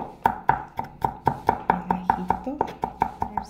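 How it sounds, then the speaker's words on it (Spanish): A knife chops garlic on a cutting board in a fast, even series of sharp taps, about three to four per second, close and crisp, with a faint voice briefly in the background. "Miren, aquí estoy picando el ajo,"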